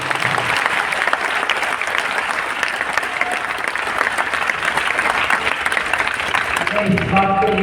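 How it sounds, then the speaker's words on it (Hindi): An audience applauds loudly and steadily for several seconds, a dense wash of clapping that fades near the end as a voice begins talking. "एक बार ताली बजाइए।"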